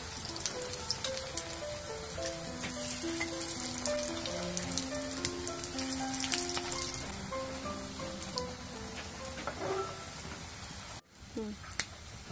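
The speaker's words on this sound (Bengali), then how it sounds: "এখন টিক্কাগুলোকে আমি গরম তেলে উল্টে দিচ্ছি।" Beef tripe tikka sizzling in hot oil, a steady crackling fry like patter of rain, with soft background music tones and a brief clatter as pieces are turned near the end.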